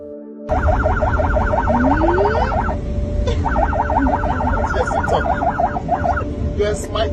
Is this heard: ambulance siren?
yes